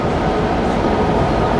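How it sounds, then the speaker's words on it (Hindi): A crowded metro tram in the Philippines rumbles past in a dense, steady roar of wheels and motion, loud and close throughout, with no voices standing out. "ये है यहाँ की मेट्रो."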